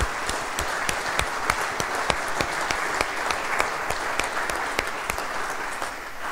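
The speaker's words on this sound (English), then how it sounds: "so let's give them a round of applause." An audience at a talk on Montana's Mansfield legacy applauds local sponsors, a steady wash of many hands clapping at moderate volume for several seconds with occasional crisp individual claps.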